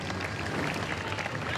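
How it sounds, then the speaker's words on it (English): Spectators at the Henley rowing regatta applaud as crews near the finish line, a steady wash of clapping and crowd noise from a distance, low and continuous for the whole moment. "You can hear the crowd showing their appreciation."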